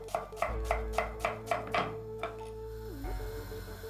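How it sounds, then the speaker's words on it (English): Onions being finely chopped with a knife on a board for a stuffed leek wrap, about seven crisp, evenly spaced cuts up close, then the chopping stops. "Finely chop the onions."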